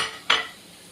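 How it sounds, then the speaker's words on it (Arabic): A utensil scrapes and stirs chicken breast with salt, pepper, coriander and a little turmeric in a pan, one brief close scrape over a soft background hiss. "ونديها تقليبه حلوه كده"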